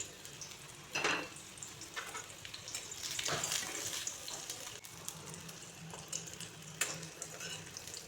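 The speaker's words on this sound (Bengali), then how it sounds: "আর এই বাকি 3টে আমি বেসন আর চালের গুঁড়ো দিয়ে ফ্রাই করব।" Pointed gourd coated in gram flour and rice flour batter frying in oil on a low flame, with a steady close sizzle and a few louder bursts of crackling, alone without speech.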